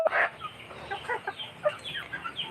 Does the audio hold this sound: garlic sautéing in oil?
no